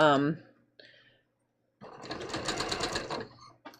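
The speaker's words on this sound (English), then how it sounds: "so let's sew this together" A sewing machine stitching a bias-cut bateau neck blouse gives one short, rapid burst of whirring stitches after a brief pause, with a voice at the start.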